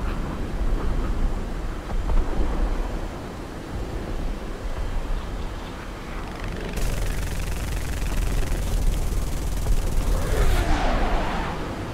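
Six .50 caliber machine guns on an F-84F Thunderstreak jet fire in War Thunder, a dense continuous rattle over steady engine roar, with a brighter hissing burst joining partway through.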